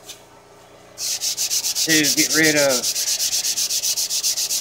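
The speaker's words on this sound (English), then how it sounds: "Let's do the last little bit of final hand sanding with some really fine grit sandpaper" Fine-grit sandpaper is rubbed by hand over a small wooden sign made from scrap wood, a steady series of close, rhythmic scratchy strokes. A person speaks briefly over the sanding.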